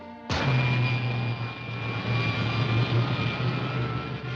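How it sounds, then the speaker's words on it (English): Rocket jets fire in a vintage sci-fi film, a sudden loud blast that settles into a steady, roaring rush with a low hum beneath it, continuous and close for several seconds. "Fire pilot jets."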